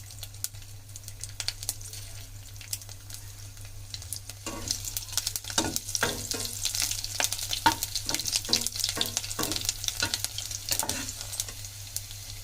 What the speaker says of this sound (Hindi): रसुण पकाइबा।